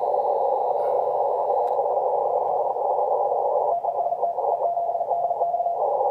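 Amateur radio signal received on the 80-meter band through a full-size quarter-wave vertical antenna: a steady, loud single tone with faint background hiss, continuous throughout.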